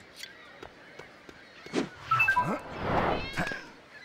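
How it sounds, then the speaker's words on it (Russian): Cats meowing and caterwauling in the LEGO City Undercover video game, several drawn-out yowls over scattered game clicks and thumps, moderately loud and building toward the end. "Чё за кошки?"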